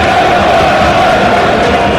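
Football stadium crowd of Arsenal fans near half-time against Burnley, a steady dense roar of massed voices filling the ground, continuous and fairly loud with no single voice standing out.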